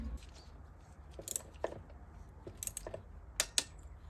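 Several sharp, crisp clicks from a torque wrench tightening a fastener on a Peugeot 306 during servicing, close by and irregularly spaced, with the loudest pair near the end.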